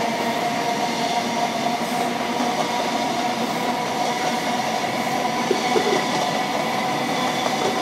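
A Class 43 HST diesel train, 43257 on the Highland Chieftain service from London King's Cross to Inverness, passes through Doncaster with a steady, loud rumble and roar of wheels on track, with no voices.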